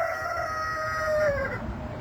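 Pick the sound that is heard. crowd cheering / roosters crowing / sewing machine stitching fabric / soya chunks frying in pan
roosters crowing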